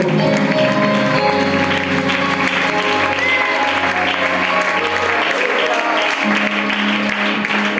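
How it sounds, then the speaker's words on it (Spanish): A church congregation applauds for a sustained stretch, dense clapping from many hands filling the space at high volume, with music tones sounding beneath the applause. "Fuerte el aplauso para el Señor."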